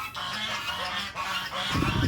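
Turkeys call with harsh, honking cries, fairly close, and the calls grow louder and denser toward the end.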